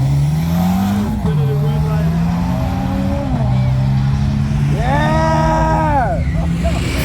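Drift cars racing head to head at a Florida speedway, a Ford station wagon against a Hyundai Genesis, engines droning and revving with rising and falling pitch, tires screeching near the end, with a crowd voice over it.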